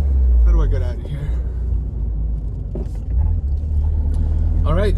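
Turbocharged Fiat 124 Spider engine droning steadily while driving, a loud low rumble throughout with boost building, heard from inside the car; a voice talks over it.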